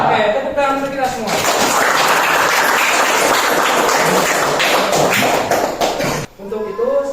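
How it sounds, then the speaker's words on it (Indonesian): A classroom of students claps together in a dense burst that lasts about five seconds and then stops abruptly. A teacher's voice is heard before and after the applause. "tepuk tangan untuk kita semua"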